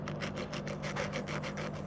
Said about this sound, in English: sanding my tip a little bit,